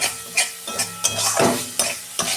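Spices being stirred and sautéed with grated coconut, once stiff from the fridge, in a pan for a snake gourd dish; a spatula scrapes in repeated strokes over a soft, continuous sizzle, close and fairly loud.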